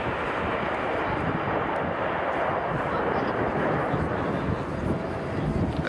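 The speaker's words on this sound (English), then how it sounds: "the aircraft are building up now to 400 miles an hour" Red Arrows display jets roaring past at an airshow at RAF Fairford, a loud broad steady rush of engine noise under a commentator's voice.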